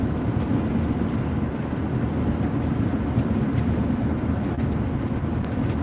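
A freight train carrying intermodal containers, some of them refrigerated, rumbles past in a steady, unbroken low roar at moderate loudness, with no speech.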